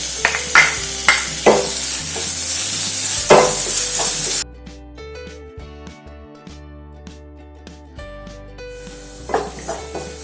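Crushed ginger, garlic and green chilli fry with browned onions for a chicken curry, a close sizzle punctuated by sharp rhythmic stirring strokes against the pan, then a quieter stretch with a tonal background before the stirring returns.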